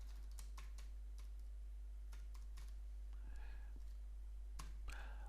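Quiet typing on a computer keyboard comes as irregular bursts of soft, close key clicks over a low steady hum, with a short pause between flurries.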